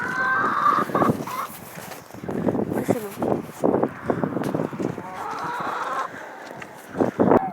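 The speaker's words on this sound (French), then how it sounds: "c'est un parc à poules où on met des poules, des coqs, des canards et les oies" Chickens and a rooster in a farmyard poultry pen shared with ducks and geese, clucking and calling in repeated bursts close by, with a brief spoken remark partway through.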